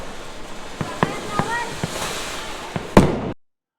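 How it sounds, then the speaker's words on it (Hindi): Diwali firecrackers go off outdoors, including anar fountains, spinners and anar bombs: a string of sharp pops over a hissing background, ending in one louder bang, with voices faintly present. "हमने अनार को मचलते हुए देखा, चरखरी को नाचते हुए देखा और अनार बम को फटते हुए देखा"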